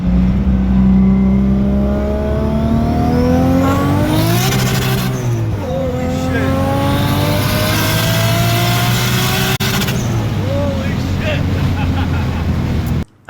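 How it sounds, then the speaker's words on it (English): A turbocharged Nissan RB-engined car accelerates hard through the gears, a loud, close engine drone rising in pitch with each pull and dropping at the shifts, with tire noise under the strain. "especially in second gear, it'll spin the tires when the boost kicks in"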